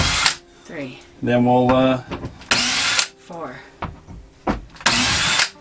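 A power drill backs screws out of an RV shower insert in short bursts of whirring, trading off with a man counting aloud between them.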